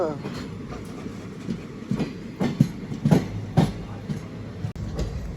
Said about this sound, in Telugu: మనం ప్రస్తుతం ప్రయాణిస్తున్న train number 57201 Vijayawada Guntur passenger train అనమాట